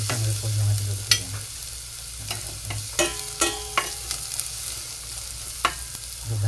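Cabbage sautéing in a pan with onion, a low sizzle broken by repeated sharp clinks and scrapes of a utensil stirring against the pan, close and without talk.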